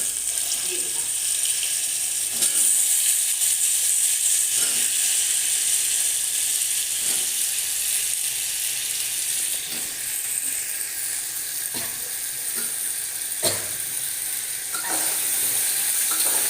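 Bori, small lentil dumplings, sizzle in hot oil with pumpkin and potato added, a loud continuous frying hiss broken by occasional scraping stirs of a utensil in the pan.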